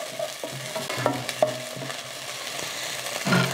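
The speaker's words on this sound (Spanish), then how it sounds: "Y aquí le voy a seguir moviendo a la cebolla." Chopped onion stirred and frying in a pan while making tacos al vapor, a continuous close sizzle broken by scraping spoon strokes and a few sharper knocks against the pan.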